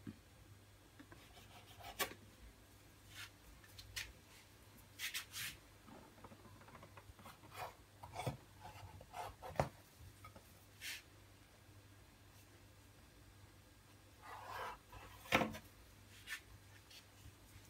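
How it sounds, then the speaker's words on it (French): A knife trims the edges of rolled-out samosa dough in a home kitchen, making faint, scattered scraping taps and short strokes in a quiet room. "J'ai étalé la pâte. Je découpe les bords."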